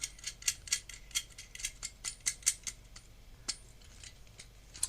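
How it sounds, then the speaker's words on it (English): A wing nut is turned down onto a bolt for a small homemade polymer clay oven, producing a run of light metallic clicks and scrapes in quick irregular bursts, close and quiet, with no talking. "And then tighten your wing nut down by holding the other end, and then just tighten it."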